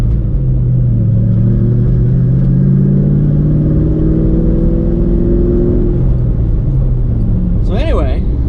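SN95 Ford Mustang accelerating hard in third gear up to roughly 5,500 rpm while merging onto a highway, a loud rising engine drone heard from inside the car that fades out near the end.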